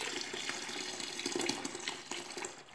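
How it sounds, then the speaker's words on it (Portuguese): Water pours steadily into a container holding about five litres of water for making homemade liquid soap, a continuous near gushing fill with no talk. "aqui tem 5 litros d'água aqui e tô colocando"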